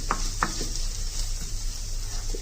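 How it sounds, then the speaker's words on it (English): Masala for poha frying on low flame in a pan, stirred steadily, giving a continuous soft sizzle with a few light scraping strokes near the start, close and alone without talk. "Make sure otherwise the masala will get burnt, so stir it well."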